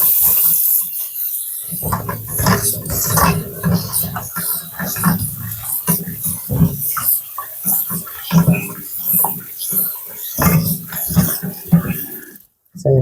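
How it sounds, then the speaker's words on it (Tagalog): Things being washed under a running tap, water splashing and gushing continuously for several seconds while someone talks over it, then the flow cuts off near the end. "Hugasan na natin."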